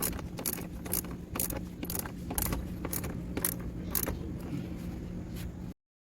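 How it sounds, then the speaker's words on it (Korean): A ratchet wrench tightens an air hose clamp beside the air cleaner box in a Kia K5 engine bay, making a series of quick close clicking strokes in uneven bursts before it stops. "에어클리너 통 옆에 있는 에어호스의 클램프도 조여줍니다"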